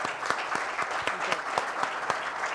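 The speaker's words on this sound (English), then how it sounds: "And a big round of applause to wonderful entrepreneurs here." A conference audience at a youth conclave session in Bengaluru gives a dense round of applause for entrepreneurs. The roomful of hands claps in a steady, moderately loud wash with a few sharper claps standing out.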